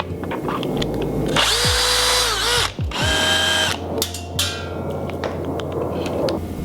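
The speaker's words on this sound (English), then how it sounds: "I'm going to unscrew two of these screws that are right next to the battery port" A power drill-driver whirs in two close, loud bursts as it backs out screws beside the battery port of a Grabo Remote tool, with brief clicks and handling noise after.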